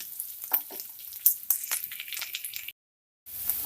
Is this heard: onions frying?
yes